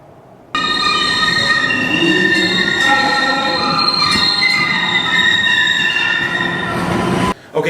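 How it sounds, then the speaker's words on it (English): An MBTA Green Line train pulls into the station, its wheels squealing loudly in high, wavering screeches over a rumbling rail roar that cuts in abruptly and runs for several seconds, close to the listener. "here's what it sounds like to wait for the green line to pull in."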